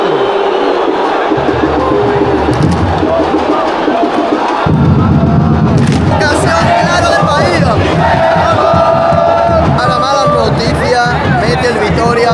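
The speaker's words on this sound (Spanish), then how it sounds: "tremenda ovación que se lleva el árbitro" Brazilian football ultras in a stadium give the referee a huge ovation, a dense roar of cheering and chanting with whoops and rhythmic shouts, surging louder midway and staying loud to the end.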